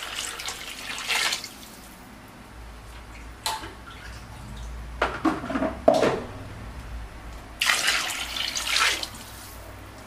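Three litres of mineral water poured into a large pot for cooking fifty portions of nasi kebuli, several close splashing bursts of pouring separated by quieter pauses and faint clinks of cookware.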